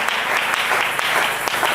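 A church congregation at a Friday worship service applauds steadily, a dense, loud wash of clapping that fills the short moment without speaking.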